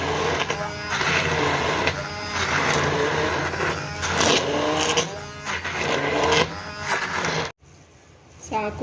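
A kitchen grinder runs steadily, blending cooked sarson and bathua saag into a paste with a loud continuous motor whir for several seconds before cutting off abruptly near the end.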